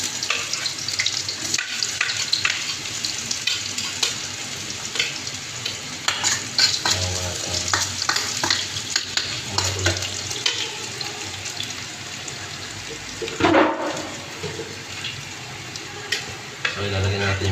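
Onion sizzles and fries in a pan while being stirred, a close, steady crackle with scraping stir strokes and brief clatters, plus a short burst of running tap water; no speech is heard.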